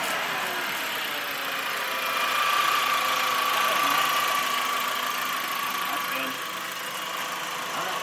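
A 2004 VW Jetta engine runs steadily after a Seafoam cleaning, a continuous mid-pitched idle hum with a faint whine that swells slightly midway, heard close and alone.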